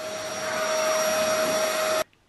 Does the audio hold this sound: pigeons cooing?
no